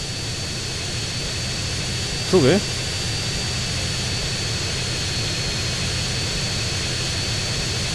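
A jet aircraft's engine drones steadily in GTA San Andreas, a constant rushing roar with a thin high whine throughout, and a voice speaks briefly near the start.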